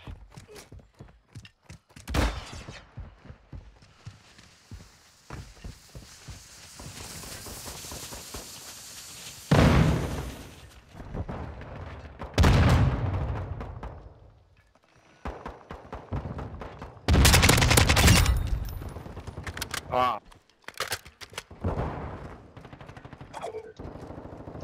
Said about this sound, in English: Are they throwing decoy grenades?